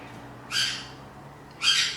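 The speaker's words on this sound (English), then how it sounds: "my bird is screeching at me" Pet bird screeching indoors, two loud harsh squawks about a second apart, each lasting roughly a quarter second, with quiet room tone between.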